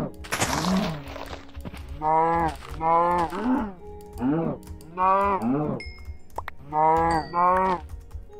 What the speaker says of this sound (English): Oh, look, cows.